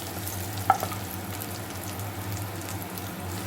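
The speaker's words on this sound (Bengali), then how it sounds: "এর মধ্যে একটা ছোট্ট পেঁয়াজ আমি কুচি কুচি করে কেটে একটু ভেজে নিচ্ছি" Small chopped onion fries with cumin in a pan with a soft, steady sizzle under a low hum, broken by one brief clink near the start.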